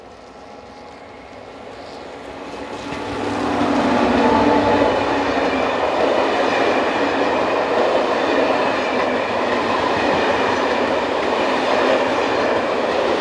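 Locomotive 15061 hauling a passenger train from Paris Nord to Saint-Quentin, slowed by adverse signals, a steady loud rumble building over a few seconds as it approaches, then holding at a constant roar.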